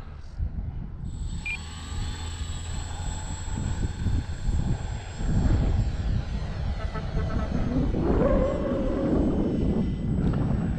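A small radio-controlled Dynam C-47 model plane's engine buzzes with a high whine that shifts in pitch as it passes, mixed with wind rumble on a windy day.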